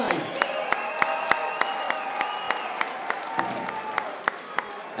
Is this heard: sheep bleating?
no